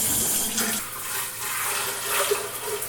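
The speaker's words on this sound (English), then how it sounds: "So first, what I'm going to do is I'm going to rinse this out." Almond Cow milk machine parts rinsed under a running kitchen tap, a steady close splash and hiss of water that shifts as the parts move beneath the stream.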